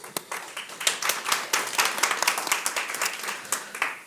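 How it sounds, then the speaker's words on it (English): Dense, continuous clapping from a conference audience welcoming panelists at a Nordic-Baltic gender diversity and leadership panel, moderately loud and fairly close, with many overlapping hands and no talk over it. "let's give a warm applause"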